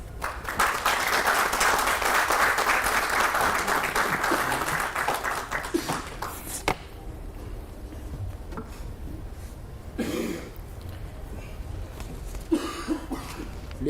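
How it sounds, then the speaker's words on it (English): Steady applause from a crowd at a South African Navy media briefing fills the first several seconds, then fades into a quieter room with scattered coughs and murmuring. "let's give another round of applause"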